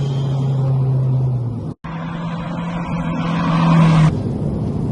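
A turbocharged Honda Civic Type R EP3 with a limited-slip differential, tuned to around 380 bhp, accelerates hard through corners with a loud, steady engine drone. There is a brief cut midway, then the engine climbs in pitch before easing off near the end.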